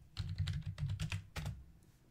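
Rapid clacking keystrokes on a computer keyboard while entering a command, a close, fairly quiet run of irregular clicks over about two seconds.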